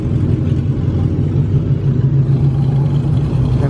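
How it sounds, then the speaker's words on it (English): A Dodge Hellcat with a Shirokai wide body engine at a busy car meet, a loud steady low rumble holding close by for several seconds with slight throttle swells, no talk over it. "That's the Hellcat that has a Shirokai wide body on it."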